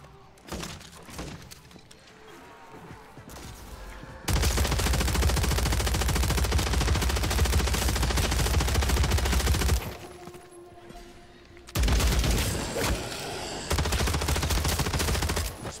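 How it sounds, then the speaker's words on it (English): A video game submachine gun firing in long, loud sustained bursts, two extended strings of rapid automatic fire separated by a quieter pause, with softer shots and clatter before the first burst. "An SMG."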